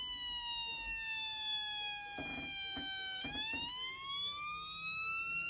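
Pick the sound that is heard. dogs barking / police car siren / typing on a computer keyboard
police car siren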